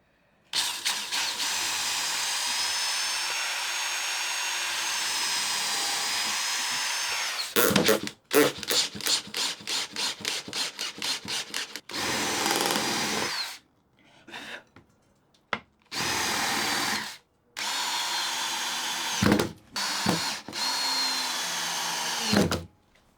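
A power drill bores into hard jarrah wood while building a saw vice, heard as long loud whining runs broken by short bursts and pauses, close and alone with no talk.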